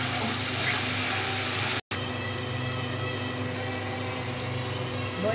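Young jackfruit and spices sauté in goat fat, giving a steady, dense crackling sizzle that runs almost without pause, broken only by a split-second gap.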